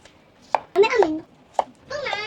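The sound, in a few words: knife cutting the top off a medium tomato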